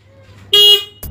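A short, loud blast of a Denso dual-tone snail car horn fitted to a Toyota Agya 1.2 sounds up close, followed by a brief thump.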